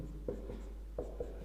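Chemistry formulas being written on a board during a lecture, a few brief tapping and scraping strokes over a steady low hum, with no voice present.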